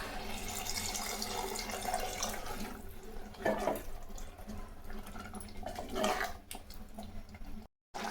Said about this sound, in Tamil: இப்போ கொஞ்சமாக தண்ணி சேர்த்துக்கலாம்.